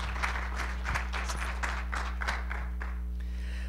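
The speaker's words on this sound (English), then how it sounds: "Let's hear a big round of applause." Audience applause for a panel of judges at a competition event, a steady dense patter of many hands clapping at moderate volume over a low constant hum.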